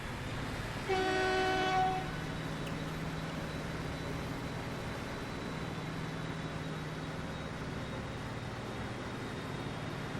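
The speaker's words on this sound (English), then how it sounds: "we can now follow train 35 on its route" A freight train in the Transport Fever video game sounds a chord-like horn blast lasting about a second, then rolls on with a steady rumbling drone over continuous background ambience.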